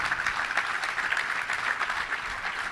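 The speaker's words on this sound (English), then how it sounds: "how about a round of applause for the effort for him just getting here today?" Applause from the audience at a Little Rock Touchdown Club luncheon, a continuous even wash of many hands clapping at moderate level.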